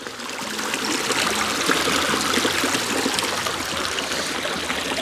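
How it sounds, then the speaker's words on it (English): A small brook in a local park runs steadily, its close, continuous trickling and babbling water holding an even level throughout with no voices. "this is just a little brook in my local park"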